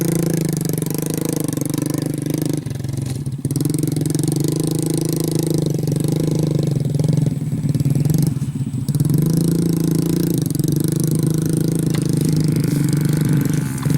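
Motorcycle taxi loaded with grain accelerating at full throttle, a loud, sustained engine roar close by, with brief dips and a throaty, rattling drone throughout.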